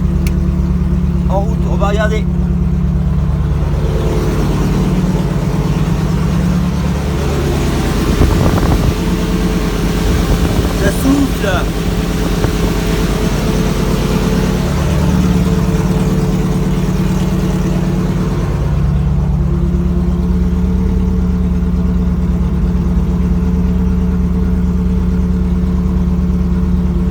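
A Ferrari 360 Modena Challenge idles with its radiator fan running, a loud steady low engine drone and fan whir, close by, while people talk over it.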